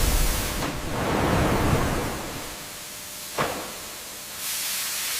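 High-pressure steam hisses inside a sealed retort sterilizer for canned papaya at a factory, a broad rushing hiss that swells, fades, gives a brief sharp spurt, then returns steadily, fairly close.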